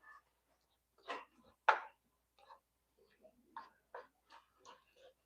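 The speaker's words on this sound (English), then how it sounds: "I am just pretty much chopping up the turkey meat" Cooked ground turkey breast meat is chopped in a pan while cooking dinner: scattered soft taps and scrapes at an uneven pace, faint and close, with quiet gaps between them.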